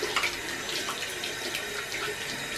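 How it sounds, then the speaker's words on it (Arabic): Tap water runs steadily into a sink while hands are washed after a cinnamon and coconut hand scrub, a continuous close splashing stream with no talk. "وغادي نغسل يديا"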